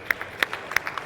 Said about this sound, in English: Let's give him an applause, please.